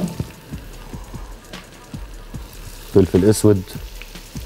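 Vegetables and potatoes sizzling in a frying pan while being stirred, with soft crackling and scraping strokes, then a brief burst of a voice talking over the frying.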